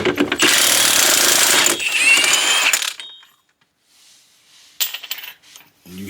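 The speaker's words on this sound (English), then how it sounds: "you're going to need a 36mm socket. Use air impact" An air impact wrench with a 36mm socket, working on a 2008 Dodge Charger wheel hub axle nut, hammers loudly in a long rattling burst, then stops briefly before a second short burst.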